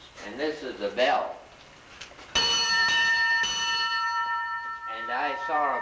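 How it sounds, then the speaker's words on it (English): A fire engine bell is struck once, ringing loud and bright with a long decaying tone, while people talk before and after the strike. "And this is the bell."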